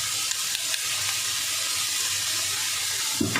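Chopped onions with chilli frying in a pan, a steady sizzling hiss throughout with a small clatter near the end.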